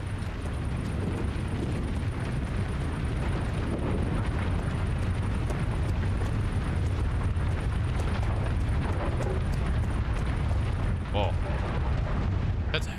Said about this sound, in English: Oh, damn, it's on fire. It's really on fire.